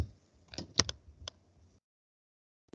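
The F1 key pressed on a computer keyboard, heard as a short cluster of four or five sharp, close clicks in quick succession, followed by silence and one more tap at the very end.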